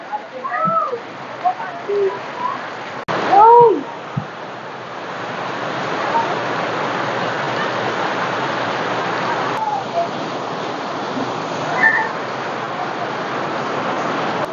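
Steady rain falling outdoors in the rainy season, a dense even hiss lasting throughout, with brief voices and a few sharp sounds near the start.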